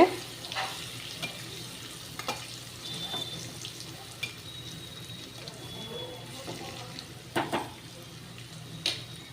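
Soft, steady frying sizzle of paneer in a pan over a low flame, with occasional clinks and stirring scrapes; quiet overall with little talk.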